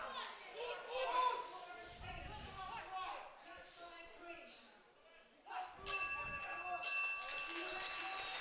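Boxing ring bell at a European under-22 championship bout ends the final round, a few bright clangs ringing out near the end amid crowd noise and commentary.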